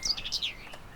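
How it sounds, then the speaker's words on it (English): A few bright, high chirping song thrush notes in quick succession, close by, fading out within a second against quiet background on the Gower coast. "And a song thrush, not the same one that we were looking at earlier."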